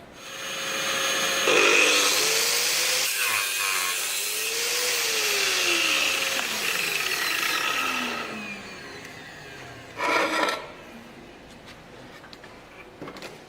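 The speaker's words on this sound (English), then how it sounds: "I'm going to turn on the vacuum cleaner so we're dust free, and obviously have to turn on the grinder, so there'll be a bit of noise" Angle grinder cutting into tile with a vacuum cleaner running for dust extraction: a loud, sustained whine with shifting pitch, then a short burst of grinding before a quieter vacuum hum continues.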